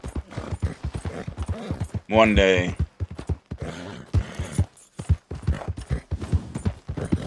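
Horse hooves clip-clop in a steady rhythm while riding in Red Dead Redemption 2, with a brief whinny partway through, all under someone talking over the gameplay.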